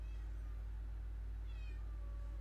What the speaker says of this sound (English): And my cat is meowing at the door